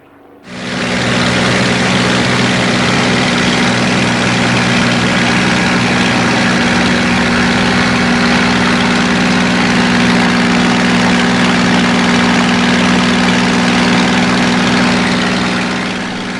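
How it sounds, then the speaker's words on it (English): A Spitfire's Merlin engine drones loudly and continuously during an air display, a steady deep roar that holds at full strength for the whole stretch with no voices. "the sound of the Merlin is really important as well"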